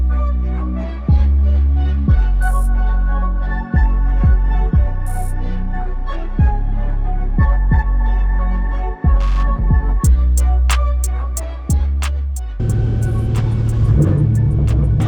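A BMW M4 GT4 race car on Hoosier TrackAttack Pro tires drones loudly and close, its engine climbing and dropping repeatedly through gear changes, with a sharp burst and rough grumble near the end.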